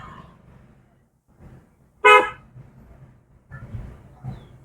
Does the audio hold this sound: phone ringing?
no